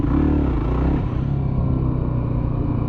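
A motorcycle engine rumbles loudly and steadily close by, its low throttle note holding for about three seconds with a slight dip partway through.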